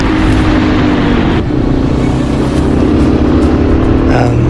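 A Yamaha XT250 motorbike rides through Morocco with a loud, steady engine drone close to the microphone, rumbling continuously throughout with a slight shift in pitch partway through.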